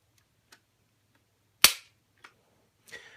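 A stock Glock pistol's trigger is pulled against a Lyman trigger gauge, giving one sharp, close metallic snap amid a few faint clicks in a quiet room.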